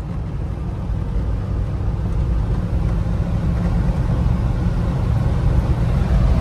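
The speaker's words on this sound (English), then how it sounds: "It's just enough to let you know there's a V8 under the hood." Deep, steady V8 rumble of a 1990 Jeep Grand Wagoneer at 70 mph on a two-lane road, with road and wind noise, a continuous low drone.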